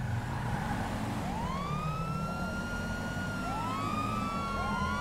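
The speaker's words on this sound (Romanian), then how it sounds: "dacă vreți ca să mergeți cu sirenic de poliție, țineți apăsat R-ul" A police car siren in a roleplay driving game wails in repeated rising and falling sweeps over a constant engine drone, moderately loud and with no speech.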